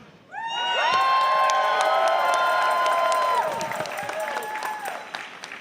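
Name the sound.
audience cheering and applauding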